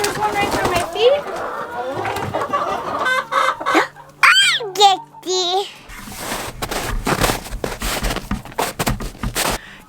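Chickens clucking and squawking close by, busy overlapping fowl calls with a brief crow-like cry mid-way, while people talk nearby.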